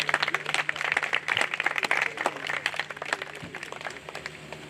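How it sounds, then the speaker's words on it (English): Audience at an Eagle Scout Court of Honor clapping, sharp individual claps from a modest crowd, close and lively, fading slightly toward the end. "Round of applause."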